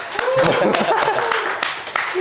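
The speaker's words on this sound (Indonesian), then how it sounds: "boleh kita tepuk tangan dulu nggak?" An audience claps and laughs together through the whole stretch, a dense, steady wash of applause with scattered chuckles mixed in.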